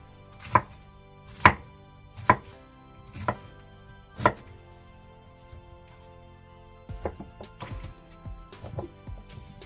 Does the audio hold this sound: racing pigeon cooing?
no